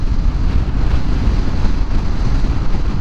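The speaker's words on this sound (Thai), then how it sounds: "ลมมันแรงมาก" Strong wind buffets the microphone outdoors beside a heavy vehicle, a loud, continuous, roaring rumble with constant gusting and no other clear sounds.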